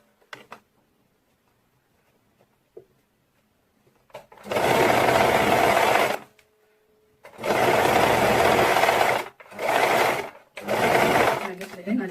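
Close sewing machine stitching along the top edge of a ruched crop top, running in three sustained bursts with short pauses between them, after a near-silent stretch with faint handling sounds.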